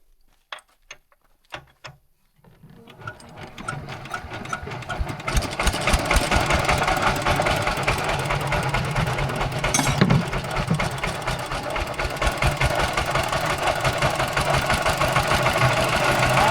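A few sharp clicks give way to a tractor engine starting and settling into a steady, loud chugging run that holds to the end, with a rattling mechanical beat throughout.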